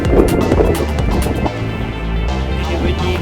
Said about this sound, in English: Pretty windy again.